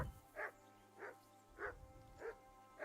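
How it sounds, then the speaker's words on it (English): Dog barking in Kingdom Come Deliverance 2: five evenly spaced single barks, moderately distant and fairly quiet, over a low background hum. "I assume you can hear that damn dog of yours bark."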